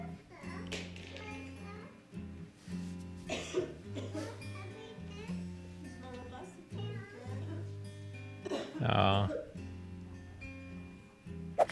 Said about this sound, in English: This little girl knows exactly what to do when her mom has a cough.